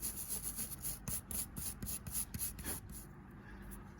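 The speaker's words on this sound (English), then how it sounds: "got a brass brush here. We're just gonna clean that." A brass brush scrubs the plugged muffler of an Echo leaf blower in quick, rhythmic rasping strokes, close and fairly quiet. The scrubbing slows and fades toward the end.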